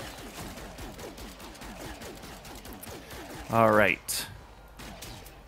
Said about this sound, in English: Shoot my own ship back there.